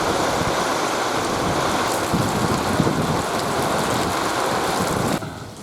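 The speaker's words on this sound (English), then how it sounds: "we've got a tropical storm rolling through" Steady heavy rain from a tropical storm pours down across the whole stretch, with a low rumble of thunder mixed in beneath the dense hiss before it thins slightly near the end.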